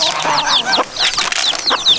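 Bantam chickens cluck and chirp close by in a busy flock, with small chicks peeping among them in steady overlapping bursts.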